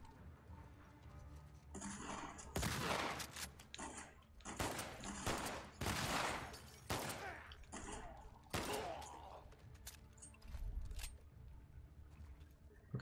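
Gunfire in the video game The Last of Us Part II sounds as a scattered series of sharp shots and bursts, fairly quiet overall, with uneven gaps between them.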